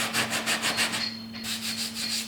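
Steady rhythmic scraping of sandpaper on rough primed wood of a truck hood, several strokes in a row, close and fairly loud, with a brief pause before the rubbing resumes.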